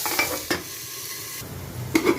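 Potatoes added to half-fried bitter gourd in hot oil make a close sizzle, broken by sharp scrapes and clinks of a spatula stirring in the pan at the start, middle and end; no voices.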